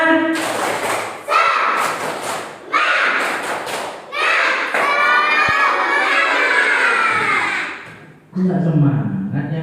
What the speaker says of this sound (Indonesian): Tepuk semangat dulu ya.